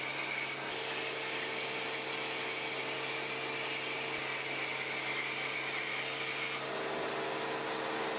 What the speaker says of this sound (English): I cut strips about 1 inch wide with the bandsaw.